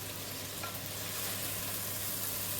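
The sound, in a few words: teriyaki beef stir fry scooped with big spoon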